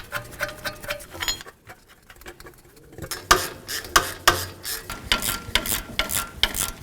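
A hand ratchet snugs up the hub bolts on a 2006-18 Jeep Wrangler front wheel. Quick runs of close, crisp clicking are broken by a short pause, then the clicking resumes in rhythmic bursts.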